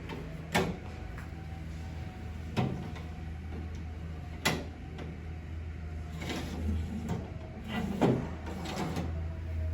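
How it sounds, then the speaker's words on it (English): Wheels of a wine shelf slide roll along the channel inside a Glastender cooler and pop into place, giving a few sharp clicks and knocks at irregular intervals over a low steady hum of the cooler. "We're going to slide it in until it gets to that notch, and then it's going to pop right in."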